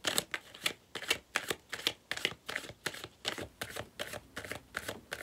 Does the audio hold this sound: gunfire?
no